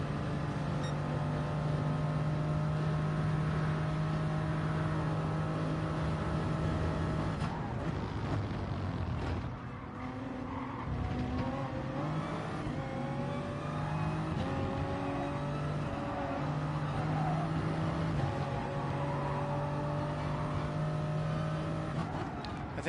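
Race car engine in a driving video game on the Sardegna circuit, a steady sustained drone at constant loudness, shifting pitch as the car accelerates and changes gear midway, with no talking.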